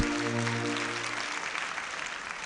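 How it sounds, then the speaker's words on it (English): Applause from a university freshers' orientation audience, a dense wash of clapping that carries on steadily throughout, with a sustained tone at the start, moderately loud and fairly near. "Clap for yourselves."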